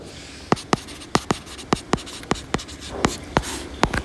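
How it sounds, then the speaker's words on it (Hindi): Marker or chalk writing on a board in a classroom: a series of quick scratchy strokes and taps in uneven bursts, close and clear, with no talking over them. "यहाँ पे लिख देती हूँ मैं, नौकुचिया ताल"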